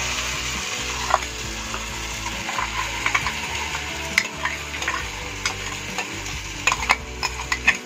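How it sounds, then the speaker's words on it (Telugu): A tomato, clove, cinnamon, ginger and garlic paste frying in a pan, with steady sizzling broken by repeated stirring scrapes and clicks of a utensil. The sound is close and continuous, and no one speaks. "ఈ పేస్ట్ కూడా మనం ఫ్రై చేసుకుందాం"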